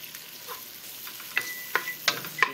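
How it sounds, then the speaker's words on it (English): Olives in their juice fry in a pan, giving a faint, steady sizzle broken by several sharp clinks as a utensil stirs them, close up with no talk. "So now at this point I'm already frying up the olives."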